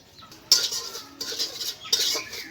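Semolina is lightly dry-fried in a pan for chhanar jilapi while a spoon scrapes and stirs it, producing a few bursts of close, scratchy scraping separated by brief quiet gaps.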